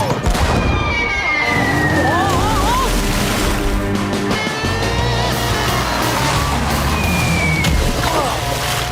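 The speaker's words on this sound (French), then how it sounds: "Qui pourrait avoir l'idée de nous lancer des boulets de canon?" Cartoon cannon blasts boom repeatedly over lively music, with whistling, wobbly sound effects sliding through the busy, loud mix.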